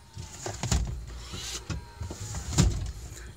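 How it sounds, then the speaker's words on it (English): The power lift gate on a 2007 Lincoln MKX runs with a close whirring motor hum, broken by a few clunks and latch thumps over a few seconds, with no one speaking. "It's got the power lift gate, power folding rear seats"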